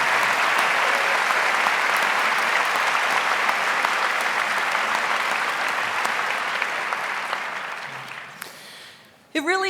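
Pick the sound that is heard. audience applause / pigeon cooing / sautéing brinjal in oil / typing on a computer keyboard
audience applause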